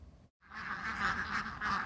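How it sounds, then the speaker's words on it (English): A flock of around 500 Indian runner ducks on a vineyard in Stellenbosch, South Africa, quacking in a dense, continuous chorus after a brief gap at the start. "This army of around 500 Indian runner ducks has a taste for snails"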